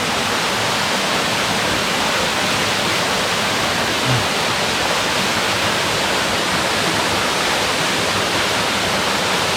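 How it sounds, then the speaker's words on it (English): Steady, dense rush of a small waterfall in Bali, close and continuous for the whole stretch, with no voices. "Nice small waterfall."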